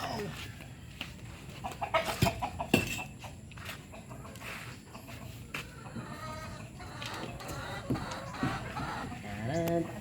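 Rhode Island chickens clucking around feeding time on a small farm, a busy mix of clucks and short calls near and far over steady background noise, with a louder burst of calls at the start.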